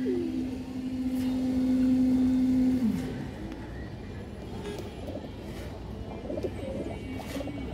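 A pigeon coos in a sustained low drone for about three seconds, then softer, broken coos continue over steady background noise.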